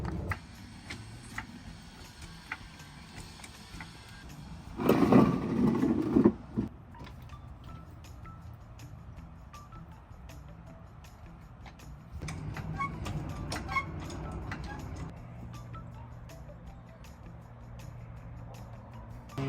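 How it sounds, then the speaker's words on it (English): A car jack being worked, steady quiet mechanical ticking broken by two louder grinding, straining bursts as the car rises. "then I just jack up the car"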